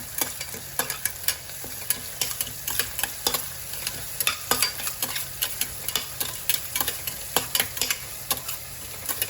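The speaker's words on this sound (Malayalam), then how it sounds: "ജീരകം പട്ട ഗ്രാമ്പു ഏലക്ക ഇതെല്ലാം കൂടെ ഒന്ന് ഇടാം എന്നാൽ നമുക്ക് നന്നായി ഇളക്കിക്കാം" Cumin, cinnamon, cloves and cardamom being stirred in hot oil in a pressure cooker for biryani, with a steady close sizzle and a quick run of sharp scraping clicks from the spoon.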